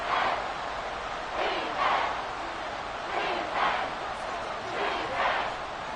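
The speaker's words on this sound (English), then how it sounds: "Crowd is pumped up here in Washington." Stadium crowd in a Madden NFL video game, 49ers at Redskins in Washington, roars in a steady wash with several louder swells of cheering, heard alone without commentary.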